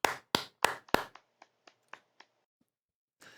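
Hands clap a few times, loud and sharp at first, then a run of lighter, quieter claps fading out, followed by a brief pause and a faint sound near the end.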